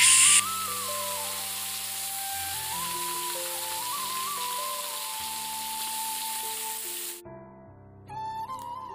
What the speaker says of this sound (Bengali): একটু 5 ফোড়ন তেজপাতা ফোড়ন দিয়ে আলু কুমড়োটাকে একটু দিলাম।